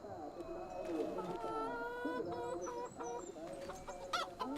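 Chickens in the Farming Simulator 25 video game cluck and squawk in a busy, overlapping chorus at moderate volume, with occasional sharper calls, while someone talks over them.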